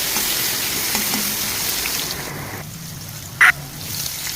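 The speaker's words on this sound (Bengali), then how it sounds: "কড়াইয়ে তেল আর কালো জিরে ফোড়ন দিয়ে বেগুনগুলো ভেজে" Eggplants fry in oil seasoned with nigella seeds in a kadai, giving a continuous sizzle that thins out partway through. A brief sharp tone stands out near the end.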